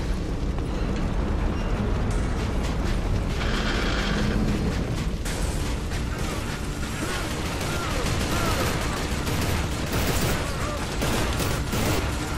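Dense gunfire and explosions in the shooter Inversion as cover fire for an armoured personnel carrier, a loud, continuous barrage of overlapping shots and booms with a rumbling mechanical bed.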